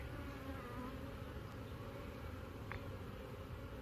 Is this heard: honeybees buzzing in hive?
yes